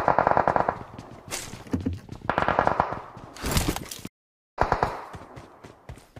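Shotgun blasts in the mobile battle royale game Battlegrounds Mobile India, several sharp loud bursts amid game noise and excited talk, with a brief silent gap near the end.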